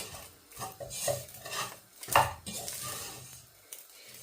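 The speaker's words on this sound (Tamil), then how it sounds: "இந்த மாசிச்சம்பலை நாங்கள் நல்லா மிக்ஸ் பண்ணி கொடுப்போம்" Sri Lankan maasi sambal mixed in a pan over low heat, with close scraping and clinking of a utensil against the pan in irregular strokes, some louder knocks, and no talking.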